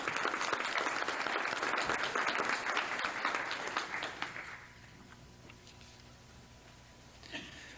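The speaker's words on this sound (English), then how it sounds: "We have a round of applause for them." An audience applauds loudly at a get-together for a visit to Stevens Point, Wisconsin, the clapping fading out after about four seconds into quiet room noise with a few last claps.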